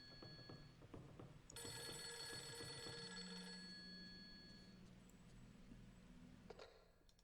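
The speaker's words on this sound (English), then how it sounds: "Is that the phone? Yes, yes it is." A telephone rings in the horror video game Project Zero 3, a steady electronic bell tone repeating over a low ambient drone for several seconds before fading near the end.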